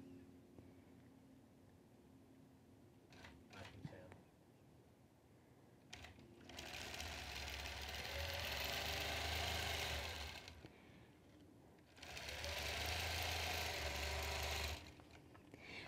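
A sewing machine stitches a basting line through a quilt, running in two sustained bursts of steady motor whir separated by a pause, with scattered soft handling clicks and rustles in between.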